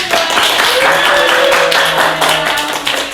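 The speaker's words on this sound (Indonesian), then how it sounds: "Oke, tepuk tangan." Loud, steady audience applause fills a talk-show studio, dense and continuous for a few seconds with a faint sustained tone beneath it.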